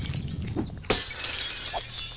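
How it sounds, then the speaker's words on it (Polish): Window glass is smashed in the video game 7 Days To Die: a sudden sharp crash of shattering glass cuts in after quieter rustling, followed by a bright lingering tinkle. "rozwalasz szybę i nie masz szkła"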